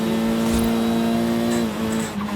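A race car engine in the video game Forza Horizon 5, roaring steadily at high revs with a strong buzzing tone, then dipping briefly as if shifting or easing off before picking back up.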